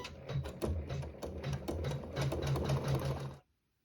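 An embroidery machine stitches a tack-down line around the edges of a fabric block for a tablet sleeve, a rapid, steady mechanical chatter of needle strokes running close and alone before stopping abruptly.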